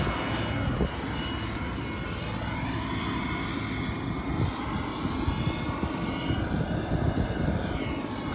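Motorized bicycle with a 190 engine kit, road carburetor, intake horn and small exhaust, running close by with a steady buzzing drone and slight rises in pitch as it revs, continuous with no talk.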